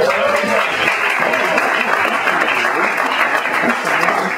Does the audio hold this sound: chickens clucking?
no